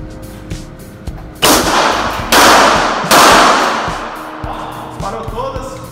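A Taurus TS9 9mm pistol firing handloaded rounds at a shooting club, three loud close shots about a second apart, each with a long decaying echo, amid quieter background noise.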